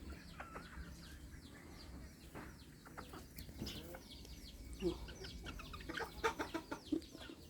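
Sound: bantam chickens clucking

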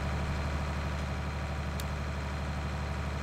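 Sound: Keenan diet feeder chain driving auger, from video game Farming Simulator 19

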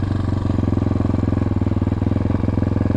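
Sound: motorcycle engine as the clutch is slowly released

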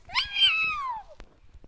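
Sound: cat meowing in a Roblox video game

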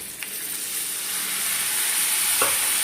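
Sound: fennel and poppy seed paste being sautéed in a pan

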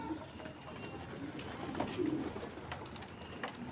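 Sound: pigeons cooing in a flock

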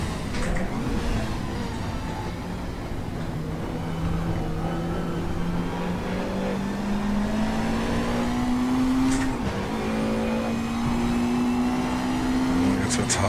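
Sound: Mercedes 190 EVO II DTM race car engine, Raceroom video game

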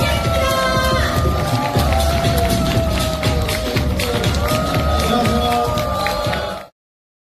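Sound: crowd cheering and applause welcoming the chairwoman

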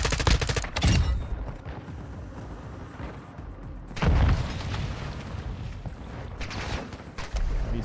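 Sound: gunfire in Call of Duty Modern Warfare II DMZ video game

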